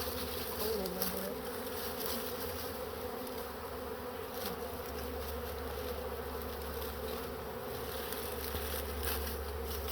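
A wild honeybee swarm drones in a dense, continuous buzz close by, steady throughout with faint background movement.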